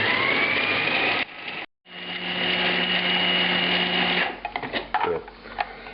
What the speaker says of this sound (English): I'm adding the basil leaves, which I've chopped up some too to assist the food processor